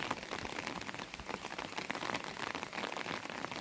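Steady rain patters on a window, a continuous dense hiss of drops with no voices.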